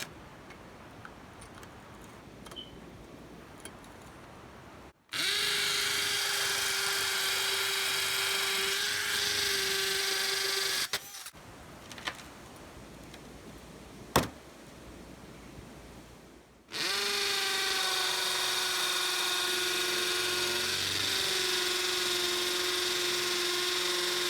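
Milwaukee 2697-22 combo kit hammer drill boring into cinder block in two loud sustained bursts of several seconds each, whining steadily with a rattling hammer action, separated by a quiet pause.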